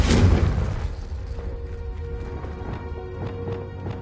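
A Confringo blasting curse explosion in Hogwarts Legacy, one loud booming burst at the start that decays into a rumbling tail with faint rhythmic clatter continuing after.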